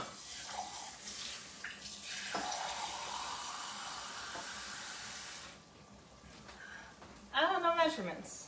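Water runs from a tap in a steady hissing stream, stopping and starting again, with a voice speaking briefly near the end.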